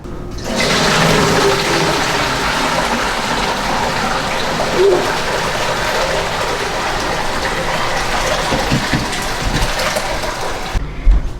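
Chokecherry juice pours and gushes through a strainer into buckets as a loud, steady rush of liquid that fills nearly the whole stretch, then stops abruptly near the end.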